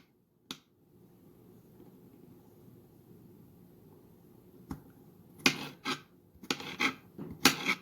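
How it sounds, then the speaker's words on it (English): A knife mincing ginger on a cutting board: an isolated tap early, then a quiet stretch, followed by a flurry of sharp, close chopping knocks in quick irregular bursts. "So mince it."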